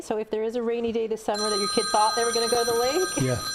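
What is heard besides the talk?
telephone ringing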